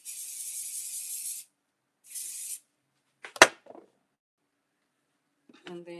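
Two hissing bursts of hair spray from an aerosol can, the first long and the second shorter, followed by a sharp clack and, at the end, a brief voice.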